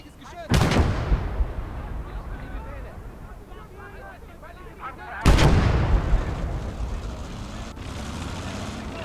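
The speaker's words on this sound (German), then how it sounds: "Achtung, feindliches Geschütz!" Enemy artillery fire in the WWII strategy game Gates of Hell: Liberation, two loud, heavy booms a few seconds apart, each followed by a rumbling decay under a battlefield background where voices speak.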